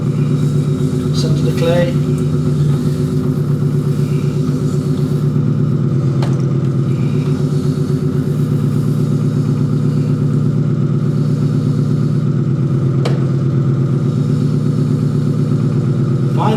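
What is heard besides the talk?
electric potter's wheel spinning at full power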